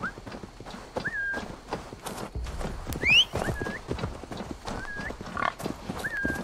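Horse hooves clip-clopping in Assassin's Creed Valhalla during the Sigrblot festival event, a steady busy patter with a brief whinny-like cry midway, mixed among game effects.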